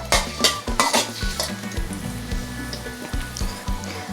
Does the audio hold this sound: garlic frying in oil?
yes